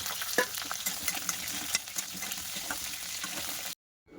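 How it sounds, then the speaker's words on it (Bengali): Cauliflower florets fry in hot oil with a soft continuous sizzle and occasional stirring clinks and scrapes, close by, before cutting to silence at the end. "এবার ফুলকপিগুলো ভাজা করে নেব।"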